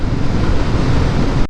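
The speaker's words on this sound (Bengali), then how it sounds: "কিরকম ঠান্ডা একটা হাওয়া" A cold wind buffets the microphone while riding a motorbike on a tour through Purulia, a loud, steady rushing roar that cuts off abruptly.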